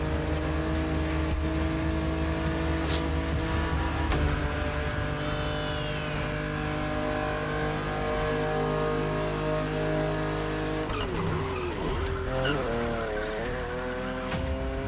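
Porsche 911 driven in the video game The Crew Motorfest, a steady engine drone with tyre squeal and shifting revs near the end, playing under a person talking.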